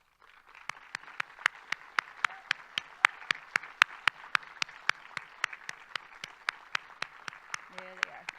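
At the Miss Cherokee and Junior Miss Cherokee competition, the audience applauds the committee members with quiet, evenly spaced claps in a steady, slow rhythm, with a faint murmur beneath and a few tones at the end.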